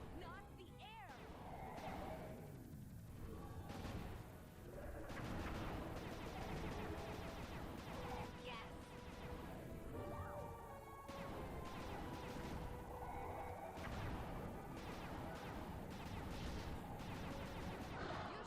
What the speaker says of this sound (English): Okay, we need to shoot Clockwerk down.